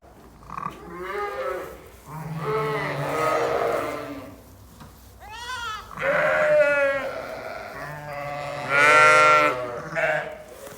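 Ewes and lambs in a lambing pen call out repeatedly, with loud, drawn-out bleats from the adult sheep and higher cries from the young, overlapping at close range and heard alone.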